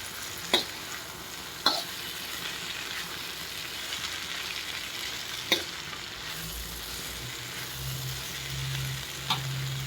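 Spiced brinjal curry with salt being stirred in a pan, a spoon scraping the pan in a few sharp strokes over a steady low sizzle of frying.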